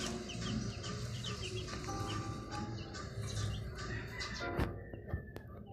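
White Kelso gamefowl rooster clucking softly amid a quiet farmyard, with a few short clucks and faint bird calls over low background noise, fairly distant.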